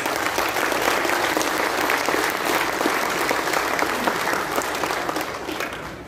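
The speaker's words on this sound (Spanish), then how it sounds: "un aplauso para ellos" A crowd at a road inauguration in Pénjamo applauds government officials, a loud, dense and continuous round of clapping that tapers slightly toward the end.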